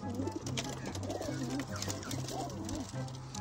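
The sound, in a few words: domestic pigeons cooing before release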